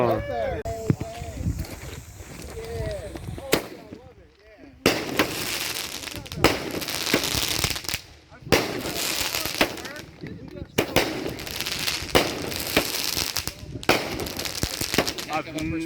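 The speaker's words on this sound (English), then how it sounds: "I've never been right underneath the fireworks like this, dude." Fireworks burst right overhead at a Fourth of July show on Smith Island, a rapid run of loud cracks and booms with crackling tails, while people talk and exclaim underneath.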